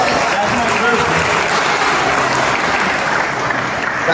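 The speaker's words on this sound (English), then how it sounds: "So, give him a round of applause." Steady audience applause fills a Q&A event in a café, dense and continuous clapping from a room full of people, loud and unbroken throughout.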